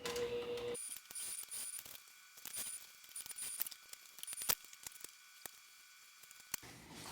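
A sewing machine stitches around a label, giving a quiet, steady mechanical ticking and whirring with small rhythmic clicks; no one speaks.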